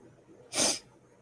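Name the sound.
nose blowing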